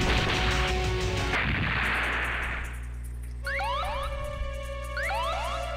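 A grenade blast in the Metal Slug 4 arcade game: a loud, broad burst that rumbles for a couple of seconds, then gives way to rising synthetic game tones with a steady low hum beneath.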